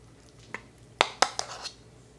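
A serving spoon scoops cheesy meatball casserole into a bowl, giving a few sharp clinks and scrapes against the dish, with two louder knocks near the middle and quieter taps around them, close by and with no talking.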